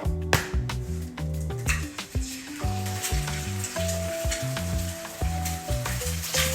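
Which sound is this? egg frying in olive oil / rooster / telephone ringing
egg frying in olive oil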